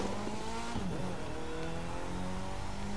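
A Mitsubishi Lancer Evolution X engine in The Crew 2 racing game drones and revs steadily, its pitch shifting as it accelerates, with no talking.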